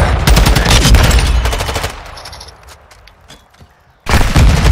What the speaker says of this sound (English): I just shot someone.